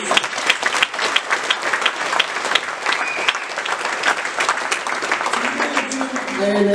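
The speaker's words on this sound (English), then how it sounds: "Let's give them a big round of applause." A crowd applauds at a MAP awards night, dense clapping with some crowd noise that holds steady and loud throughout.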